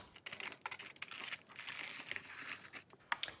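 Plain coffee-dyed paper being torn by hand, a close crackling rip that runs in uneven bursts with brief pauses, crisp and papery without any talk.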